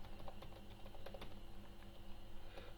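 Code being typed on a computer keyboard: rapid, irregular key clicks close to the microphone, quiet and steady throughout with no voices.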